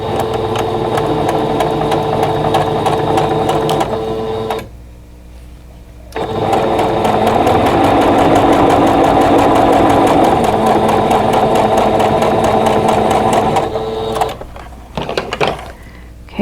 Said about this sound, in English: we're just going to sew this seam